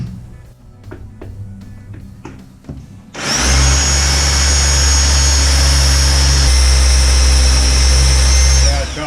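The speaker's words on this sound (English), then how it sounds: "I'm just drilling through the tile, so I don't want to break it." A few scattered clicks and knocks give way to a power drill starting up and drilling through ceramic tile on a block wall, its loud, steady whine running unbroken to the end.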